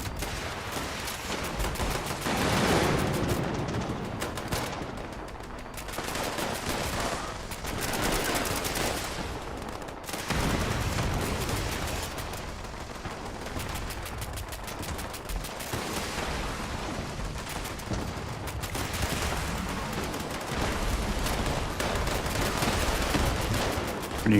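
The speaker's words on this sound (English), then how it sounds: "When you hear a lot of fire down here, it usually means that the 3 elites have spawned" Heavy, continuous automatic gunfire and explosions fill the Fallout 76 scene as elite enemies spawn, dense and loud throughout with no pauses.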